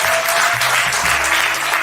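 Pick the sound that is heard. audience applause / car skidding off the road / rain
audience applause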